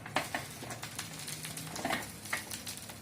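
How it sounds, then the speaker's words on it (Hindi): Ginger and turmeric paste roasts in a pan over medium-to-low heat, giving a soft sizzle with light scraping and stirring taps, quiet and close, without talk. "ये है हमारा अदरक और हल्दी का पेस्ट और हम इसे अब थोड़ा सा भून लेते हैं।"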